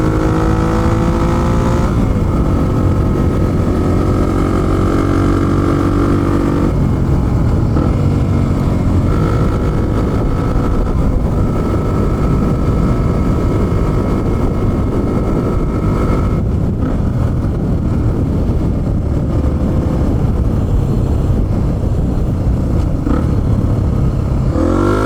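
A Honda XR250 dirt bike engine drones loud and steady while the bike is ridden, close up, with its revs rising and falling and constant wind rush over the microphone, no talking.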